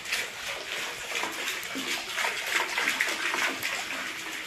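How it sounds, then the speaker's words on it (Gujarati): A tap runs into a water tank, producing a continuous rushing, splashing flow that swells and dips slightly and stays close and fairly loud throughout. "નળ ચાલુ છે પાણી ટાંકામાં।"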